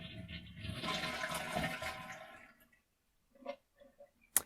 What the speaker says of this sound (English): So with the fill valve turned off, as I flush, nothing fills up in the bowl